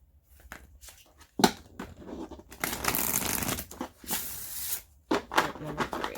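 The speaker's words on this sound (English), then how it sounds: "I'm going to get 4 shuffles for this one." A deck of tarot cards being shuffled several times in quick bursts, riffling and flapping close up, with pauses between shuffles and brief crinkling handling sounds.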